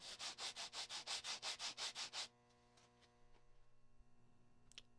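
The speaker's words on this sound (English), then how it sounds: "you can use this block or just sandpaper on a flat surface and smooth out the edges like this" Rhythmic scraping of a coin ring's metal edge rubbed back and forth on sandpaper on a flat surface, about a dozen even strokes, then it stops and only faint ticks remain.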